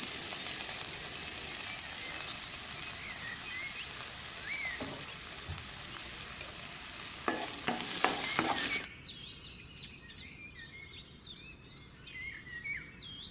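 Sliced onion, green chilli and curry leaves fry in hot oil, a dense close sizzle with a few spoon scrapes that cuts out suddenly, leaving faint birdsong outside.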